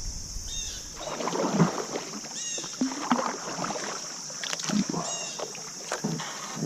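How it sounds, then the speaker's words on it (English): A kayak paddle scrapes over gravel in a shallow stretch of the Sandusky River in Ohio. Several rough, broken scrapes and splashes come close by over a steady outdoor background. "Scraping gravel with the paddle."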